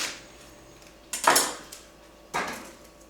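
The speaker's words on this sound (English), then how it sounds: "I'm just going to go ahead and chop the end off of it and cut this in half." A knife chops through an onion on a cutting board, trimming the end and halving it: two sharp, close thunks about a second apart, with a soft earlier scrape.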